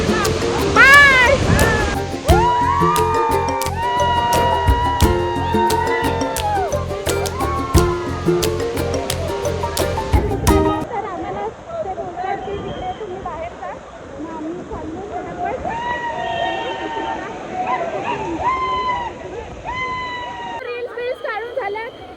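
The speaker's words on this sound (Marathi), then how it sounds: "धबधबा बघू शकता. खूपच छान धबधबा आहे" A waterfall at Bhandardara in Maharashtra roars as a steady broad rush of falling water, heavily overlaid by people talking and excited voices throughout.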